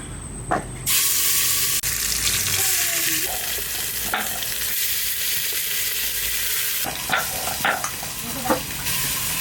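Potatoes coated in oil frying in a pot, a loud, continuous sizzle with intermittent scraping and stirring strokes and occasional clanks from the pot, close by with no speech.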